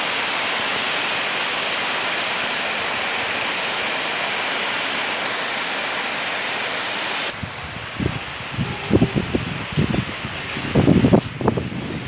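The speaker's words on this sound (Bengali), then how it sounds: "একদম ধোঁয়া ধোঁয়া বৃষ্টি দেখা যাচ্ছে" Heavy misty rain pours down in a dense, loud, unbroken hiss for most of the stretch, then drops to a lighter patter with scattered nearer drips and splashes toward the end.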